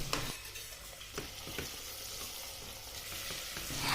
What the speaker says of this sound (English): I add in onions. I let them saute just for a minute.